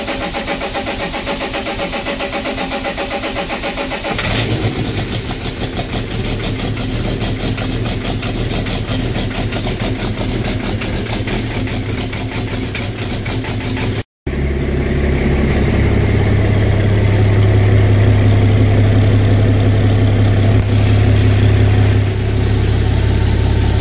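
A diesel BMW E46 with a bigger turbo and piezo injectors, one injector leaking fuel, idles loudly up close, cuts out for a moment, then cranks and restarts into a deeper, steady idle.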